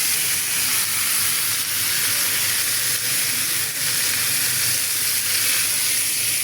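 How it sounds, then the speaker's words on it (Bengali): Tomatoes frying in a hot pan, a loud, continuous close-up sizzle and hiss with a steady texture throughout and no talking. "এখন টমেটোগুলোকে ফ্রাই করবো বা সেদ্ধ করবো, যেটাই বলেন।"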